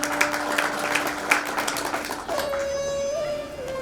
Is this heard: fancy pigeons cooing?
no